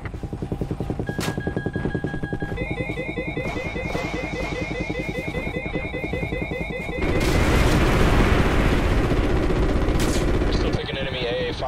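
Call of Duty: Ghosts combat: rapid bursts of heavy gunfire and booms with whining tones, then a sustained roaring blast of missile explosions, while radio voices talk over the din.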